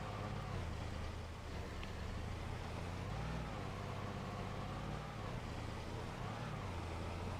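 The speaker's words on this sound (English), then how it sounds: "Let's go ahead and grab the truck one more time," A truck drives in the Farming Simulator 25 video game, its engine a steady, loud low rumble that holds throughout with slight rises and falls in pitch and no talk over it.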